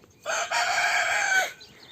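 A rooster gives one loud, close crow lasting about a second and a quarter, with a brief break near its start and a trailing end, over a quiet yard.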